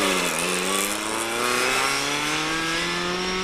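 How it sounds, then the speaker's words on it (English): A Vauxhall Chevette rally car drives past at a car show event, its engine note held high and rising gradually as it revs hard. Loud and close, it runs continuously with no talk. "Gerald Davies and Lynn James in the Vauxhall Chevette."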